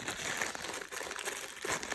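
A small sample packet of salt crinkles and crackles as it is handled close by, a quiet rustling that keeps on for about two seconds with no talking.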